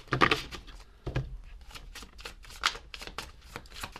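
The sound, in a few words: tarot cards being shuffled and pulled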